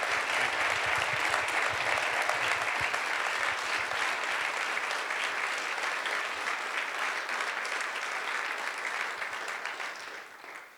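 Sustained applause from an audience at an Indianapolis Motor Speedway speaker series event with racing figures, loud and steady throughout and fading slightly at the end.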